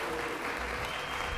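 A crowd in a Los Angeles city council chamber applauds, a brief, dense and steady patter of clapping from many hands.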